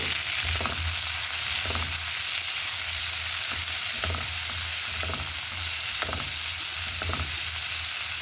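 Tomatoes sizzle in a frying pan, a dense, steady crackle with rhythmic stirring strokes about once a second, near and fairly loud with no talking.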